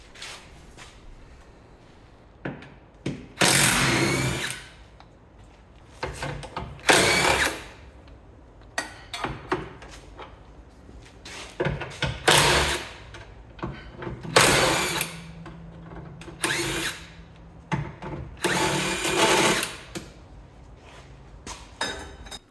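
A power tool undoes subframe bolts on an Alfa Romeo 156, sounding as repeated short bursts of loud whirring and rattling separated by quieter pauses, about ten spurts in all, close by with no talk.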